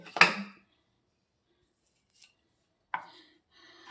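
Sharp knife strokes chopping fried potatoes into small pieces, one loud cut at the start and a softer pair of cuts later, with silence in between in a home kitchen.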